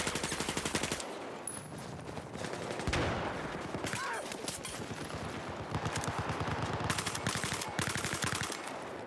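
M416 rifle fire in a large 16-versus-16 online shooter match: sustained rapid automatic shots roll on through most of the stretch, with a commentator's voice faintly underneath.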